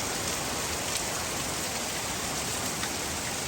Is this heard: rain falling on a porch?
yes